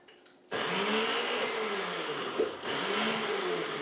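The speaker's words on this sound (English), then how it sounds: "My old blender." An electric blender whirs into motion after a brief moment, then runs loud and steady blending frozen wine, its pitch dipping and wavering as the contents churn.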